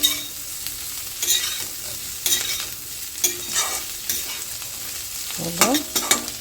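Potatoes fry in a pan with salt, cumin powder and kasuri methi while a spoon scrapes and stirs in short, regular strokes over a steady close sizzle, with a brief squeaky scrape near the end.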